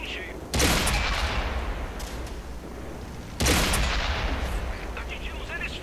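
Two heavy tank cannon shots in World of Tanks, each a loud sudden blast followed by a long decaying rumble, roughly three seconds apart.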